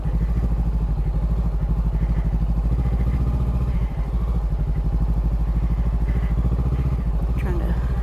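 A Honda CB500X motorcycle engine idles and putters at low speed on a backyard skills course, a steady close rumble with slight throttle changes, under continuous talk.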